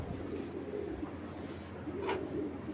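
Domestic flying pigeons kept for sale coo softly and repeatedly in the background, low and steady throughout with no voices over them.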